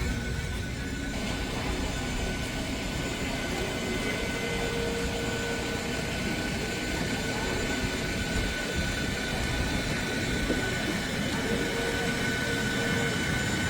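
A jet airliner's engine at an airport gate gives a steady, continuous broadband roar with a faint high whine, unbroken for the whole stretch.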